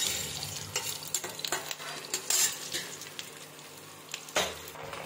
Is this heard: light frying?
yes